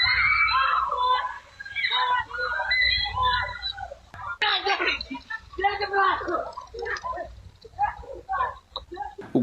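Children scream and cry in panic as they flee a pitbull on a street, picked up by a security camera: high, frantic shrieks and shouts in overlapping bursts, loud and close, with a brief break near the middle.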